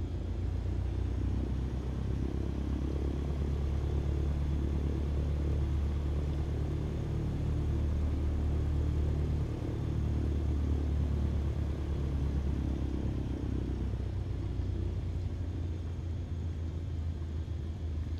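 A small airplane taxiing on the ground at Orcas Island airport gives a steady, loud low engine and propeller rumble that holds evenly throughout, with no talk.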